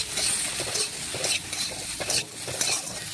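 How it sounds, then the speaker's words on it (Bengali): Okra sizzling in hot oil while being stirred and scraped with a metal spatula, with salt and turmeric mixed in; repeated scraping strokes over a continuous frying crackle. "খুরপি দিয়ে নাড়াচাড়া করে লবণ হলুদ ভালোভাবে মিশিয়ে নিচ্ছি।"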